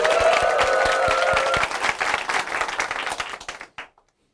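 A church audience applauds a woman who has just given her Christian testimony, dense clapping that thins out and fades to silence near the end.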